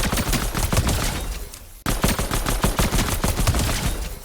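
Video game gun firing full-auto, a rapid continuous stream of loud, close shots with a brief break in the middle before the fire resumes.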